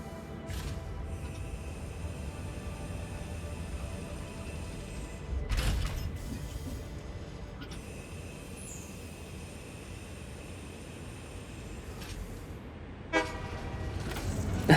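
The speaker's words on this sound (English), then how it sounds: "It does a little honk when it starts moving again." A short train horn toot sounds in the Satisfactory video game as the train starts moving, a brief honk over steady rumbling engine and rail noise, with a second short toot later near the end.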